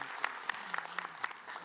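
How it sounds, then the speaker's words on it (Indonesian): A congregation at an Islamic religious talk show gives faint, sparse applause, with soft claps landing in a loose, fairly even rhythm at a distance. "Tepuk tangan jamaah."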